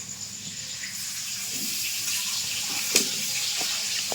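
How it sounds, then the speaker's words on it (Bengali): Water runs steadily into a bowl of poppy seeds, melon seeds and cashews set to soak, a continuous soft splashing stream with one brief knock partway through. "তো এটা আমি একটু জল দিয়ে ভিজিয়ে রেখে দেবো"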